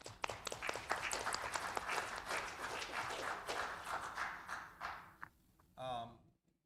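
Applause from the audience at a town board regular meeting, a broken run of claps that carries on for about five seconds and fades out, followed by a short voice.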